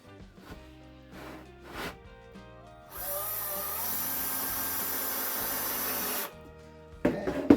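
A power drill drives screws into a clamped epoxy table frame: a steady, loud whirring burst of about three seconds between quieter knocks and handling taps, with a few sharp clicks at the end.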